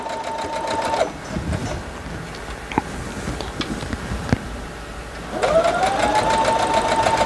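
A sewing machine stitching a quilt runs in two loud, fast, steady bursts of close mechanical whirring and ticking, with a quieter pause of small clicks and handling noises between them, no talking.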